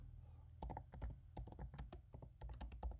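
Keys on a computer keyboard are tapped in quick, irregular bursts of close, crisp clicks while keyword search terms are typed, with no voices present.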